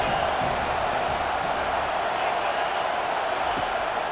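Steady, dense roar of a stadium crowd in EA Sports College Football 25, a continuous wash of crowd noise with no break.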